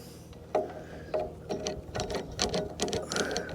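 Ratcheting and clicking tool work on a scrap lawn mower while its carburetor is removed, a series of close, sharp metallic clicks and taps in irregular bursts at moderate volume.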